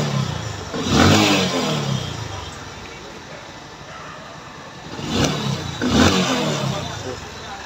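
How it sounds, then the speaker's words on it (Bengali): A Bajaj Discover 110 motorcycle with an engine sound problem idles close by, swelling into a few revs with Doppler-like whooshes of passing traffic, while someone talks in the background. "তো এই তো বাইকটার সাউন্ড শুনলেন।"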